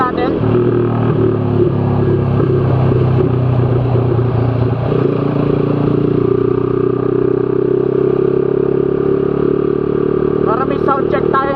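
A Kawasaki Z200S motorcycle fitted with an Akrapovic Evo GP exhaust runs at high speed around 110-118 km/h, its engine droning loudly and steadily throughout with rushing wind noise.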